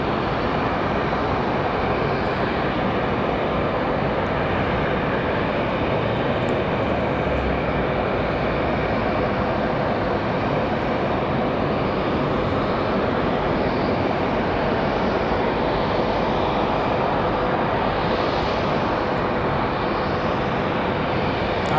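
An Aeromexico Boeing 737-800 in its new livery at Raleigh-Durham airport makes a continuous loud jet engine roar, broad and steady across the whole stretch with no talk.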